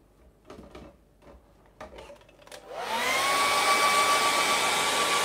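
Hair dryer switching on partway through and running steadily at close range, blowing to dry acrylic paint on a painted mountain scene; a few soft knocks and handling sounds come before it starts.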